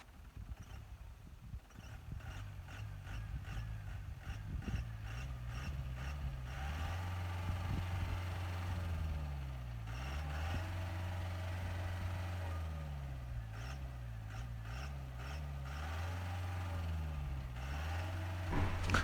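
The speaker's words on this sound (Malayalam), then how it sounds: "പക്ഷേ വണ്ടി കിടന്ന് കറങ്ങുന്നുള്ളൂ കേട്ടോ" A Mahindra jeep stuck off-road in mud on an Idukki hill track, its engine revving in long rising and falling surges as the wheels spin, loud and close throughout with no talk.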